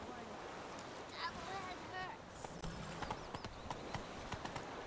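Hooves of Geralt's horse Roach clip-clop in The Witcher 3, a steady stream of soft hoofbeats blended with wind and ambient game sounds, with faint voice-like murmurs in the background.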